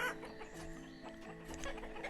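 Chickens cluck in the village farm of the city-building game Banished, a soft scattered clucking set against a steady ambient game background.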